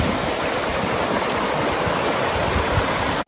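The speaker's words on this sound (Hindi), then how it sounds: "गेट वॉल भी लगाया है इन्होंने, ताकि पानी छोड़ा जा सके, यहाँ से ये निकल रहा है।" Loud, continuous roar of water rushing out through a dam gate valve near Jalbire Lamo waterfall in Muglin, Nepal, unbroken until it cuts off abruptly at the end.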